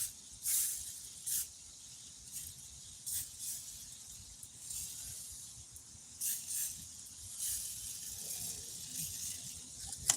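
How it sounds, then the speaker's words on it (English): Short bursts of hissing from a spray paint can, squeezed lightly to make dots, come in irregular puffs, some sharper and some softer, over faint background noise. "You just barely squeeze the can of spray paint. Make dots."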